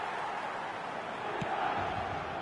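A packed San Siro crowd in a PS5 football game keeps up a steady, distant buzzing roar of massed voices, a dense murmur holding at an even level throughout.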